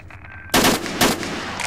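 AK rifle gunfire in the video game S.T.A.L.K.E.R. Shadow of Chernobyl: two loud, close bursts of rapid shots about half a second apart, each with a short trailing echo.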